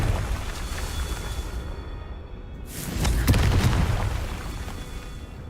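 A Confringo fire spell explosion in the video game Hogwarts Legacy, a single booming blast that bursts out midway over a dense bed of game noise and music.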